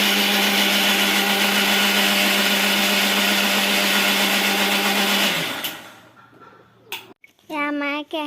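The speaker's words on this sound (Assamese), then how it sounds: "এয়া মায়ে মিক্সিত পিচিছে।" A mixer grinder runs at full power grinding garden greens for a dish, a loud steady whirring drone that spins down and stops near the end, followed by brief clatter and a short stretch of a voice speaking.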